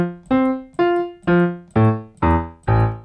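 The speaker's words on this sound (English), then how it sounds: "For this example, I'm only going to use a classic piano." Stage piano preset from a Studio One virtual instrument playing six separate notes or chords at a steady, even pace, each struck cleanly and decaying before the next, heard alone with no talk.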